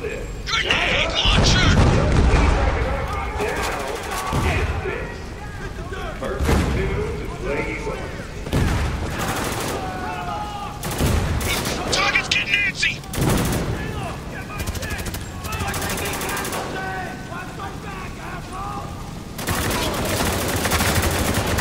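Grenade blast and bursts of gunfire in Spec Ops The Line, loud booming impacts and shots recurring across a war-torn battle scene, with shouting voices in between.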